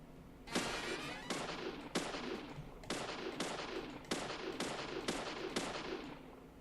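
Gunfire in the video game Deadly Premonition, about nine sharp, evenly spaced shots ringing out over a quiet background, with no voices.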